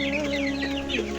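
A month-old tiger chicken clucks close by in a warm coop with a fan running, giving a short, near, throaty call over a steady hum.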